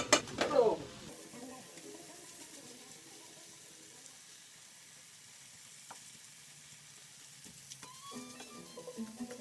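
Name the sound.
rice frying and sizzling in a pan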